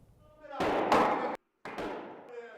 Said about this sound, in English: Officials took sledgehammers to one of the walls that will be torn down as part of an extensive remodel of the school